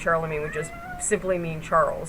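A pet cat in a room meows several times in short bursts, close to the microphone, overlapping a man's ongoing speech.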